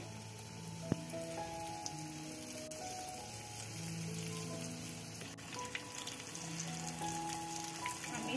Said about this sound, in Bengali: এখন এই চিকেনটাকে আমি তেলের মধ্যে দিয়ে দিচ্ছি।